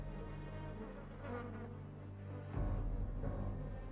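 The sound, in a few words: flies buzzing around a lioness's wounds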